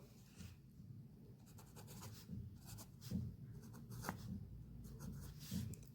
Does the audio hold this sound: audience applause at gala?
no